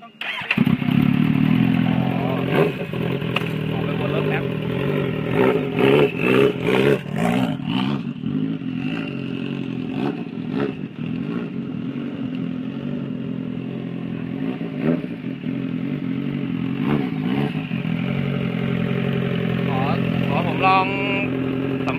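A Kawasaki Z800 fitted with a turbo revs repeatedly, its engine rising and falling in sharp bursts with clattering and thumps, loud and close, while people talk over the engine throughout.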